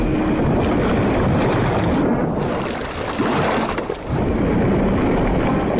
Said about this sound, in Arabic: سفينة بحالها تغرق